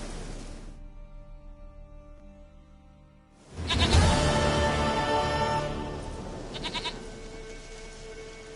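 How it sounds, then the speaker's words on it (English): A goat bleats in The Witcher 3, with game music and ambience carrying underneath; a quiet stretch gives way to a louder burst of bleating and sound partway through, then it settles back to a steady level. "Goat of mine, dearest, sweetest goat."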